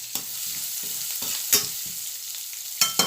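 Chili and garlic stir-fried in a hot pan, a constant sizzle broken by several distinct scraping strokes of a spatula at an uneven rhythm, close up and with no talking.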